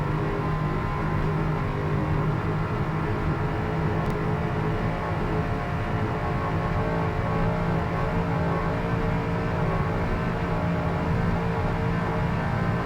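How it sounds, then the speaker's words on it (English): Sterling racing engines in powerboats roar loudly and continuously at the green flag of a race, a dense, steady, sustained revving drone that holds throughout with no break. "As you can hear the motors revving up."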